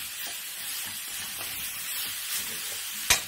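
Pork ribs for hong shao browning in a hot pan give a steady, close sizzling hiss throughout, with a few brief clinks and one sharp tap near the end.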